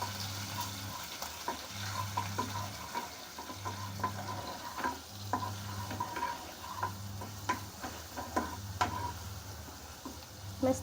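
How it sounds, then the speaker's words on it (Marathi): Green chili, cumin and garlic paste frying in a pan for kadhi, a soft steady sizzle with scattered small ticks and pops of spatula stirring, close and fairly quiet, with a low hum of music or background tone. "हे हिरवी मिरची, जिरे आणि लसणाची पेस्ट हे पण टाकून घेतली आपण. 2 मिनटं ह्याला परतून घेऊया."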